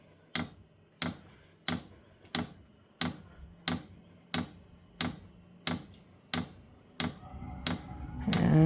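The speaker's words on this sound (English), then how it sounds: "here we got the pumps kicking in. You can hear the ticks." Vevor diesel heater fuel pump running off a Milwaukee M18 battery, giving sharp, evenly spaced ticks about every 0.6 seconds, about a dozen in all, before a rising rush of noise as the fire ignites.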